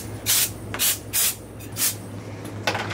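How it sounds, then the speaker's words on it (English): Compressed air blasting through PVC pipe to clear out plastic shavings during water valve manifold construction for a fish warehouse, in four loud hissing bursts of roughly a third of a second each plus a shorter one at the end, over a steady low hum. "we're going to take our handy dandy air compressor here"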